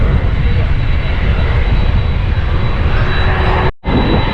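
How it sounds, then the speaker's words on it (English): Airliner engines roar loud and continuous during a takeoff at an airport, a broad steady rumble that drops out for a split second near the end before resuming. "I do love the sound of plane engines, you know, when they're taking off"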